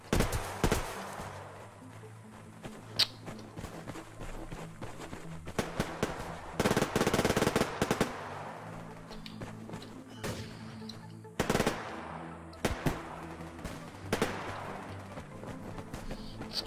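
Bursts of automatic gunfire in the multiplayer shooter Survarium, with rapid rattling volleys and single sharp shots spread across the stretch, loud and close, separated by quieter ambient gaps.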